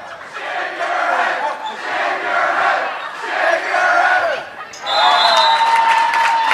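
A basketball crowd in a high school gym taunts a player, shouting and chanting in loud, swelling waves that keep going, then rising again near the end over squeaking and bouncing.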